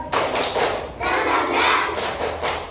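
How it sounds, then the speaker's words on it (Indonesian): A standing class of schoolchildren claps out a rhythmic spirit clap, a few loud bursts of hand claps in quick groups, close and energetic, with no talk over it. "1, 2, 3, tepuk semangat"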